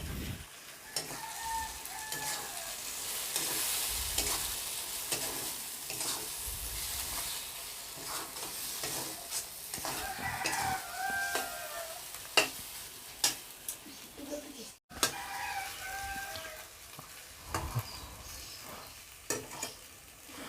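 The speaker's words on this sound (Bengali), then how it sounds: "ভালোভাবে চিংড়ি মাছ আর পেস্টগুলোকে একসাথে আমি কষবো" Shrimp and spice paste being sautéed in a pan give a faint, continuous sizzle, with irregular stirring scrapes and clatters and a few soft background sounds, fairly quiet overall.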